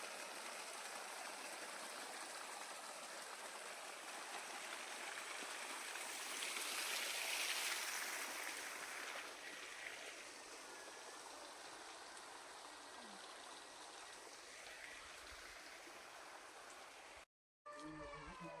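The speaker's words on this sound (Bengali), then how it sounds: "দেখুন পুরো ঝর্ণা জল," Clear mountain waterfall stream flowing near a valley homestay in Kafer village, Kalimpong, a steady rushing wash of water that swells briefly midway and cuts out for a moment near the end.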